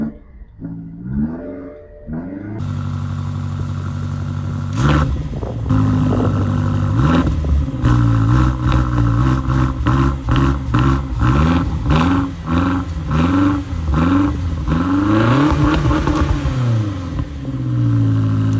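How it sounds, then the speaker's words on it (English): BMW X6 M exhaust pipes roar as the engine is revved repeatedly, loud close blips rising and falling in quick succession after a brief quieter idle, with no talking. "I want you guys to see how these exhaust pipes sound."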